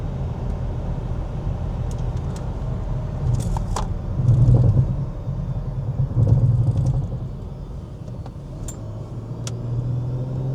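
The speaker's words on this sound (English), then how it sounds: "a truck just went when it shouldn't have" A truck goes by outdoors, a steady low road rumble that swells twice into louder passes before settling back into a continuous engine drone.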